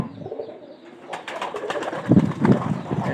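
Pigeons in their new loft coo in soft, throaty bursts, several birds calling close by with a low murmuring rhythm that swells toward the end.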